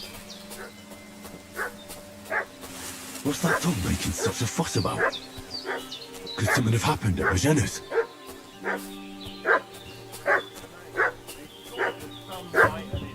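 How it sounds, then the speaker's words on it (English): A dog barks repeatedly in the video game Kingdom Come: Deliverance II, sharp yips recurring at an irregular pace over game music, with a voice speaking in the middle stretch. "What's that dog making such a fuss about?"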